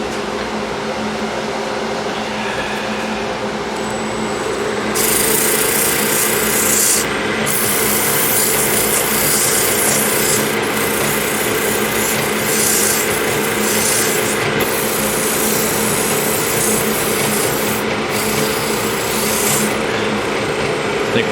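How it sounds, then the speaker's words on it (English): Continuous abrasive hiss of fine sandpaper against a wooden sphere spinning between centers on a woodturning lathe, over a steady motor and dust-collector drone, with brief bursts of louder rubbing as the paper is pressed. "I'm going to have to sand it in steps because I've got it between the centers"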